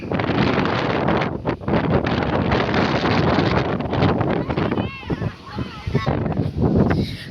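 Strong wind buffets the microphone in loud, continuous gusts, with a voice talking underneath.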